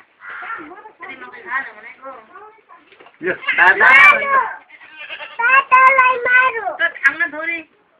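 Goats bleat several times, wavering drawn-out calls close by, with a stretch of voices talking before and between them.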